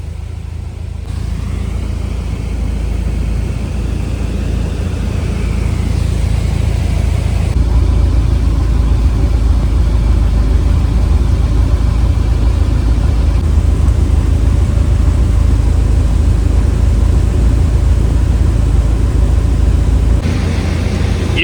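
A light aircraft engine with carb heat on and power pulled back hums at a steady low drone throughout, a constant near rumble that steps slightly louder partway through while the plane glides over the mountains of Alaska.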